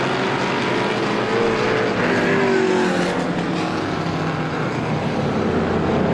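Race car engine roaring at Star Speedway during a feature race under caution, loud continuous droning engine noise with a rising and falling pitch as cars circle the track.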